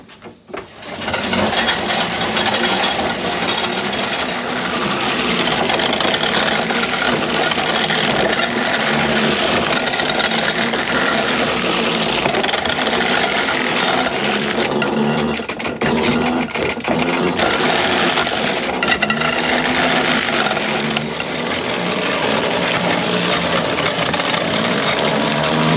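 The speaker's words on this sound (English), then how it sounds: "you just turn this handle. There's a set of blades in there that chops that apple into a bunch of pieces" Hand-cranked apple grinder with internal blades chopping apples for cider syrup, a loud continuous grinding churn with rattling, steady throughout with slight dips as the handle turns.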